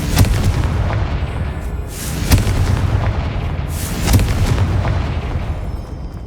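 Confringo spell blasts in the video game Hogwarts Legacy go off as deep booming explosions, three spaced bursts each followed by a rumbling decay over a continuous low background.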